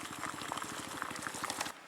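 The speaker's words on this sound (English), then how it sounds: "as you can see we've got some boiling water" Water boils on a mini alcohol stove at a rapid rolling bubble, a steady fast patter of pops close by, stopping abruptly near the end.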